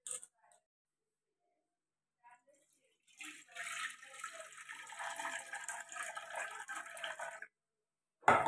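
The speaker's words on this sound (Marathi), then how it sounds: "तर 2-3 पाण्याने धुवून घेऊया." Soaked sago pearls (sabudana) rinsed in a separate pot for khichdi, with water splashing and swishing steadily for several seconds after a few faint clinks, then a short louder splash at the end.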